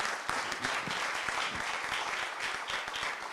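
A crowd at an International Day of Yoga award ceremony in London gives steady, moderately distant applause, a dense, even patter of clapping with no voices.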